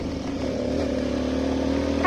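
A motorcycle engine hums steadily nearby at night, a sustained low drone that grows slightly louder toward the end as it passes.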